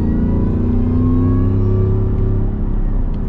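A Ford F-150 Super Snake truck accelerates hard and close, its engine note climbing steadily in pitch as it pulls through the gear.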